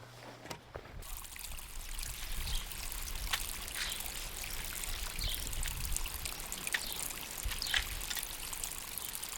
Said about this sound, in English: Now what I want to do is divert this water to this little ditch here.